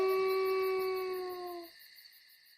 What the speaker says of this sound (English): The wolf followed him for a while. Then he sat down and howled.